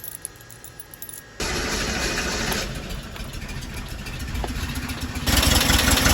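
A 1968 Porsche 912 engine with freshly adjusted idle screws is cranked and catches, then settles into a steady, close mid-pitched idle that grows slightly louder toward the end.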